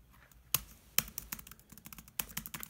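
Quiet MacBook laptop keyboard typing nearby, a few sharp key taps followed by quicker irregular clicking, on a keyboard that is briefly unresponsive.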